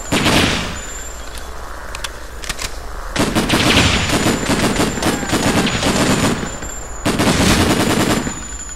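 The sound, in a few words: gunfire from the video game Breakdown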